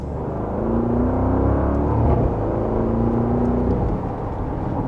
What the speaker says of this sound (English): Definitely has a good exhaust note to it, and the paddles are very quick.